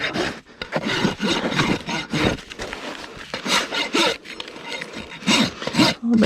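A slightly dull rasp files a mustang's hoof in quick, loud, close back-and-forth strokes, a rough scraping rhythm that keeps going without a break.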